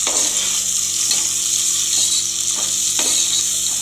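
Spices and paste for chana biryani frying in a pan with turmeric and salt, a loud continuous sizzle broken by a few sharp spatula scrapes, close up and with no talking.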